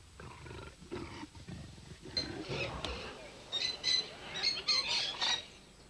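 Bengal tigers at a zoo park give low, rough growls and roars, with shrill bird squawks rising over them later, heard through steady outdoor background noise.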